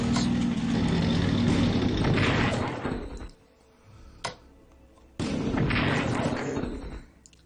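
Artillery bombardment in Strategic Command: two long stretches of heavy rumbling barrage separated by a near-silent gap with one sharp isolated thump.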